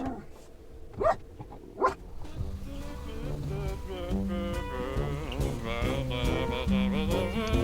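A dog gives two sharp barks close by, about a second apart, near the Liberation Mound in Piekary Śląskie, Poland, followed by a steady tonal hum of background sound with no further barking.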